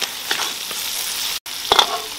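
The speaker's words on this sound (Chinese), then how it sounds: "然后放进几颗青花椒爆香，加上几颗永川豆豉增加酱香味" Green Sichuan peppercorns and fermented black beans frying with pork belly, a loud close hiss of hot oil with a couple of quick stirring knocks and a brief gap.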